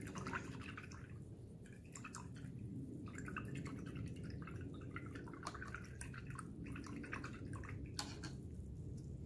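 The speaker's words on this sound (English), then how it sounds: "so I'm going to rinse the brush out" An acrylic paint brush is swished and rinsed in a container of water, making soft, quiet splashes and drips with a few light taps, all close by and unaccompanied by speech.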